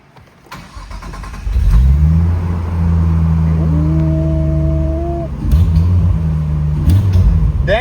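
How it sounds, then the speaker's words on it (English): A 500 hp naturally aspirated RB25DE car engine with an exhaust leak starts and idles with a loud, rough drone, then revs up with a rising whine, the exhaust sounding raspy and uneven. "Y'all hear Nick exhaust leak?"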